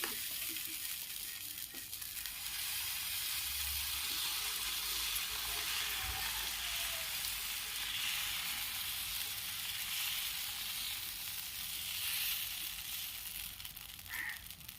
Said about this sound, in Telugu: పెనం వేడయ్యాక దోశ బ్యాటర్ తీసుకొని